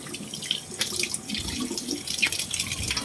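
Pork being washed under running tap water: a close, steady faucet stream splashes and gurgles in a sink, with scattered drips and handling clunks and no talking.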